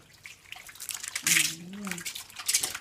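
Faint splashes and drips of water come as a prairie dog is bathed, with small irregular sloshes close by and a brief voice murmuring partway through.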